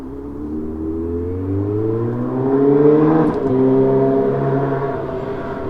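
A neighbor's motorcycle rides past outside a porch, its engine note rising as it nears and shifts gears, peaking close by, then holding a droning pitch as it pulls away.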